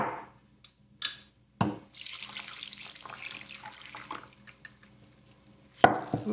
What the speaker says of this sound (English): now I cover this with the liquids